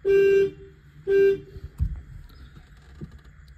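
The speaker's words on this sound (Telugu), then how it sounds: "అండ్ హార్న్ ఎలా ఉందో చూద్దాం" Two short, loud honks of the horn of a 2005 Maruti Suzuki Esteem VXi petrol car sound close by, one after the other, followed by a few soft knocks and rustles.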